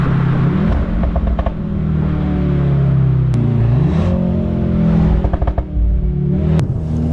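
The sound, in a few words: artificial engine sound through car speakers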